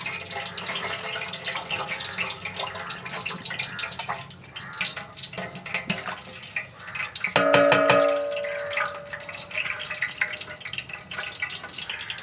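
Ghee pours into a large pot while cooking Ramadan nombu kanji, giving a continuous liquid splashing and gurgling with a brief bright metallic ring partway through, fairly loud and close, with no speech.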